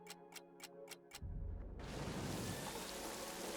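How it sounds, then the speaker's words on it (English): A quick run of ticking clicks gives way to steady heavy rain in a World War I trench survival video game, the downpour swelling into a dense, continuous hiss that fills the rest. "And it's raining again."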